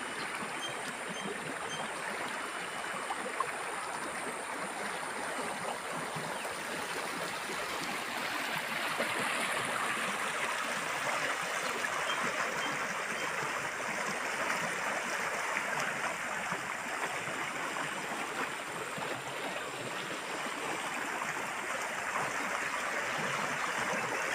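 The Dhalai river at Ambassa rushes past in a continuous, broadband roar of flowing water, steady and close throughout with no voices.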